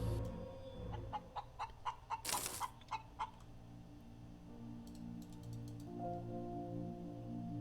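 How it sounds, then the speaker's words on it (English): An immortal chicken in the space survival game Breathedge clucks in a quick series of about ten short, evenly spaced calls with a brief noisy burst midway, then lighter ticking and a low drone. "Immortal chicken?"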